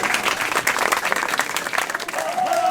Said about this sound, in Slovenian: En lep spontan aplavz.